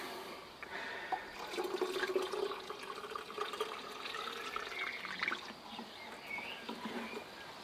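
Hot water poured into a tank in a workshop until it reaches the spout, heard as a steady, moderately quiet gurgling and trickling stream that carries on without a break.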